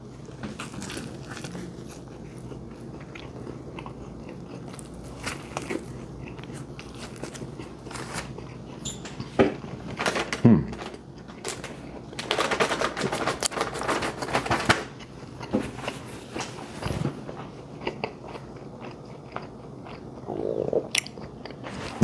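Biting and chewing an English muffin with egg, bacon and cheese from A&W, close-up soft crunches and mouth sounds in irregular bursts with quiet pauses between, no talking.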